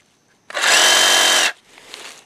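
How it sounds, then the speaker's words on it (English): Battery-powered reciprocating saw cutting through garden corn stalks, one loud buzzing burst of about a second, then a faint, quieter rustle. "You can do it with a machete, but you can also do it with a battery-powered recip saw."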